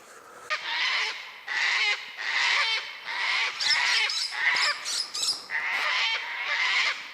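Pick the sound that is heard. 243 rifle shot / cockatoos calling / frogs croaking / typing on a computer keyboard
cockatoos calling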